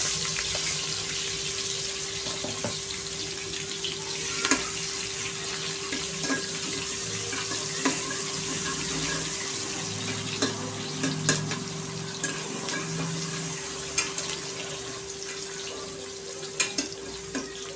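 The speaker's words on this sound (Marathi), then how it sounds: "कांदा आपल्याला थोडासा फ्राय करायचा आहे" Onion fries in oil with green chillies for dal khichdi, a continuous soft sizzle and crackle with intermittent spatula scrapes and taps against the pan, fairly close and without talk.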